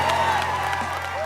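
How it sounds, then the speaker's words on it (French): A studio audience applauds and cheers after a winner is congratulated at a cooking competition finale, a steady crowd wash with whoops, while a voice and a low hum run underneath. "Applaudissez bien fort Daphné"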